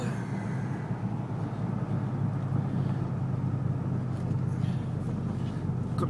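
A 1970 Hurst 300 drives along, its engine a low, steady rumble heard from inside the car, fairly quiet and even throughout with faint road noise and no clear revving.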